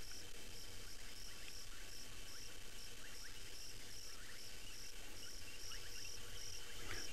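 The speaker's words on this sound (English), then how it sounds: "Just the sound of frogs, crickets, cicadas" Frogs, crickets and cicadas form a steady, dense nighttime chorus: a continuous high insect shimmer with repeated pulsing trills throughout, fairly faint and distant, with no voices.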